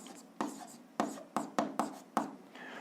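Pen scratching on paper in a quiet room, about seven distinct quick strokes in an irregular rhythm, close and fairly soft, as an algebra exercise is written out.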